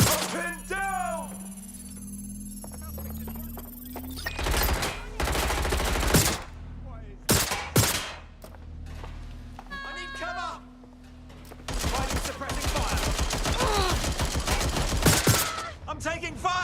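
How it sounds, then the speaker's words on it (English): Video game gunfire in Watch Dogs Legion: bursts of rapid automatic fire and sharp single shots come in clusters, loud and close, amid shouting voices and other game sounds. "I'm taking fire!"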